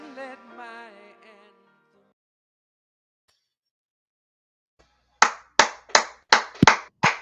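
Six sharp, evenly spaced hand claps, close and distinct, follow a trailing sung phrase and a few seconds of silence.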